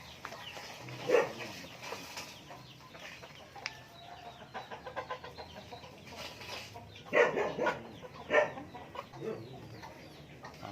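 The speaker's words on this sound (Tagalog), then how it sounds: "Ito na yung mga manok natin. Madami na sila." Native heritage chickens clucking and squawking at a moderate distance in a backyard, scattered calls over a low outdoor background, with a couple of louder bursts.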